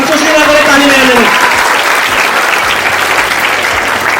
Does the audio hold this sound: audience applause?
yes